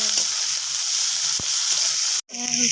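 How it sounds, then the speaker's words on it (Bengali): Cut fish pieces fry in hot oil in a pan while a spinach curry is being made, giving a constant bright sizzle that breaks off briefly near the end, then resumes strongly. "এখানে আগে থেকে তেল গরম করতে দিয়েছি, এর মধ্যে আমি কেটে রাখা মাছগুলো দিয়ে দেবো"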